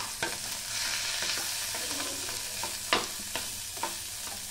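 Dal and boiled plantain pieces stirred together in a sizzling pan for a Telugu banana dal curry, a steady frying hiss broken by a few sharp scrapes of the spoon against the pan.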